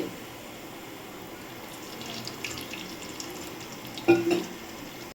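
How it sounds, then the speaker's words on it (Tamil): Cooking oil, reused from frying chicken, is poured into a hot kadai on the stove for a beef curry, giving a brief splashing pour and sizzle near the end after a quiet, hissy stretch. "இப்போ நம்ம எண்ணெய் ஊற்றிக்கலாம் தேவையான அளவு"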